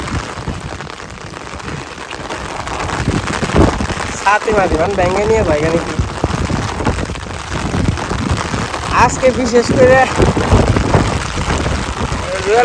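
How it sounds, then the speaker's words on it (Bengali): Steady rain pours down around a person talking outdoors, a constant wash of drops with a few brief tonal squeaks in the background. "এই দেখেন বৃষ্টি নামছে"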